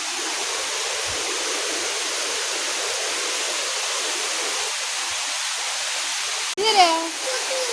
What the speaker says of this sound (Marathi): हें पळया गायज आमच्या गांवचो वॉटरफॉल